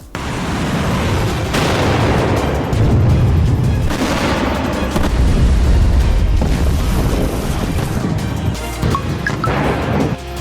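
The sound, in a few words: explosions from heavy bombing in news footage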